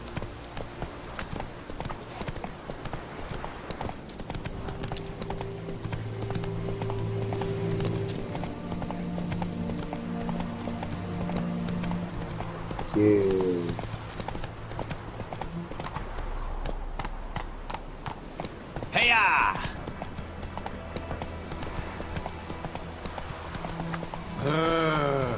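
Horse hooves clip-clop in a steady rhythmic gait while riding in the video game Witcher 3, continuous and fairly close, with a brief whinny and a few short sound effects along the way.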